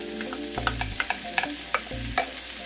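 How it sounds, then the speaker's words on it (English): Vegetables stir-frying in a pan for Korean-inspired noodles, a steady sizzle broken by repeated sharp scraping and clacking of a utensil against the pan, close and without voices. "we're going to add our vegetables in here"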